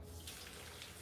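Water runs from a tap into cups while bread dough is being prepared, a faint, steady splashing hiss that continues evenly for about a second with no talk.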